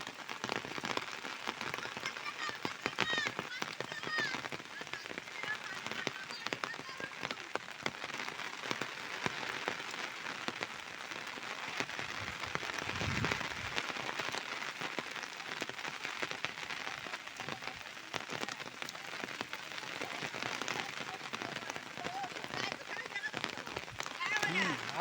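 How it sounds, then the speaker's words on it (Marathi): Heavy monsoon rain falls during a flood, a continuous loud drumming hiss on surfaces that goes on unbroken for a long stretch, with a brief low rumble partway through and faint voices beneath. "आज लय पाऊस"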